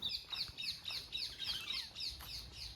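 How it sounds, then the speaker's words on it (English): Small birds chirp repeatedly in a rural Indian village in the morning, with quick, high, rhythmic tweets over faint background noise. "the sound of birds in the morning"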